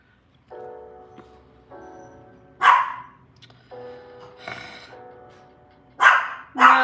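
Dogs bark at a farm with a mare and foals: a few sharp, loud bursts spaced over several seconds, the last two close together, over a quiet background with faint tonal sounds.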